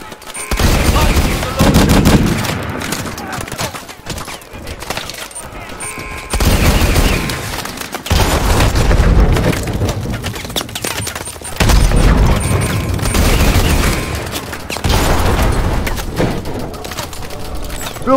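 Gunfire and missile explosions from the Call of Duty Advanced Warfare video game come as dense bursts of automatic fire and heavy booms in several long waves, loud and close, with brief lulls between them.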